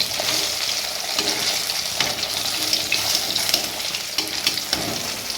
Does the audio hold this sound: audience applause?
no